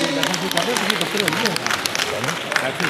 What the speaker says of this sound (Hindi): उसके लिए भी बहुत सारी तालियां होनी चाहिए।